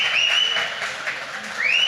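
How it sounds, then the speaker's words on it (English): Applause at a beer release event, brief clapping and crowd noise rising and falling, fairly close. "So round of applause to Kim Middleton."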